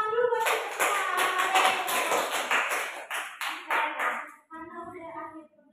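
A class of schoolchildren claps together in a quick rhythmic pattern of sharp, close claps, then breaks off as a teacher's voice speaks at the end.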